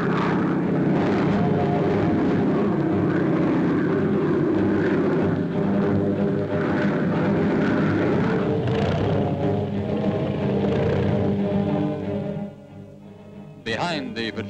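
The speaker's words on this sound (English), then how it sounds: "Behind the patrolling squadrons are the lines of our bombers." Patrol aircraft and bombers flying overhead in a 1941 newsreel, a loud, steady droning roar of propeller engines that holds throughout before fading near the end.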